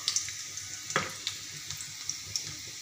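Sliced onion sizzles quietly in hot oil while cooking a spicy matki bhaji, with faint steady frying hiss and a few soft clicks of stirring, close and without voices.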